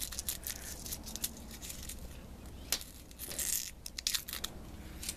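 Dry husk being peeled and torn off a bulb by hand, giving close, crisp crinkling and crackling with a few sharper snaps, steady and continuous without talk.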